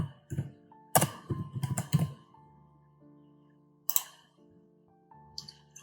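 Computer keyboard typing as details are entered by hand in an online application form: quick bursts of light clicking keystrokes, then pauses and a few more taps, quiet and near.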